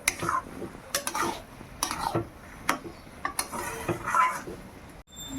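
A spoon knocks and scrapes against a pot as khichuri is stirred, giving irregular sharp clinks and scraping strokes up close, with a brief silence near the end.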